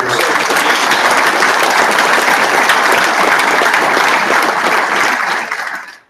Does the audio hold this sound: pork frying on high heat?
no